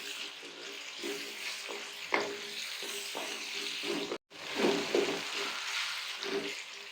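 Tomatoes frying with onion and ginger-garlic paste for a potato and egg curry, a steady close sizzle with irregular spatula scrapes as the mixture is stirred.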